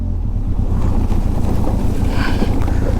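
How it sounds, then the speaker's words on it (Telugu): A motorcycle rides through a shallow water crossing on the road from Rangdum toward Ladakh, heard as a loud, steady low rumble of engine and splashing water under heavy wind buffeting on the microphone. "I love this water crossing."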